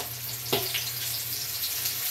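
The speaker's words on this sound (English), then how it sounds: "It's the frying." Steady hissing sizzle of flour-coated food frying in a pan, with a low hum underneath and a brief clink near the start.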